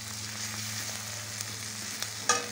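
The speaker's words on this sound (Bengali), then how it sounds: "মশলাটা কি সুন্দর ভাজা ভাজা হয়ে গেছে, তেল ছেড়ে গেছে" Spice masala for a lata fish curry fries in oil, a faint steady sizzle beneath a low background hum, with a few soft clicks and one sharper clink near the end.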